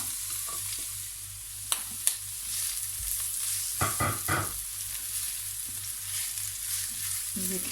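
Chopped onions and green chillies sauté in a pan for sarson ka saag, giving a steady low sizzle broken by stirring clatters, with a single brief spoken word.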